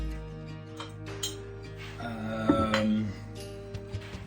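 Glass bottles clink and knock briefly while being moved aside during home bottling of mango and habanero mead, a few light taps over a humming background.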